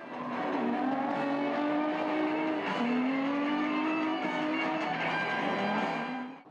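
A rear-wheel-drive drift car slides through a run, its engine droning loudly with wavering revs while tires squeal continuously, close and sustained throughout.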